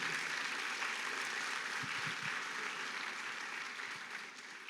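Congregation applauding at a church service, a steady broadband wash of clapping that holds evenly throughout and eases slightly at the end, with no voices over it.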